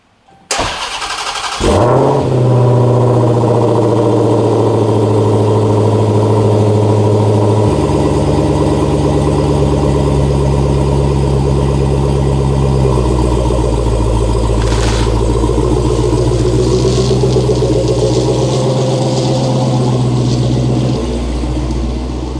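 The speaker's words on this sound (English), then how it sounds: "my 2023 Challenger Hellcat wide body" A 2023 Challenger Hellcat widebody fires up close by with a sharp starter burst, then settles into a loud, deep, rumbling idle with slight shifts in pitch, heard alone for about twenty seconds.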